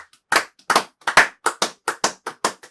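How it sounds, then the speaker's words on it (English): About a dozen sharp hand claps from one nearby person, spaced irregularly with short silent gaps between them and no voices. "Another round of applause, you know."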